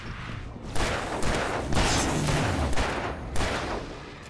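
Rapid bursts of gunfire from the Alan Wake video game crackle and boom in repeated volleys, loud and dense, with no talking.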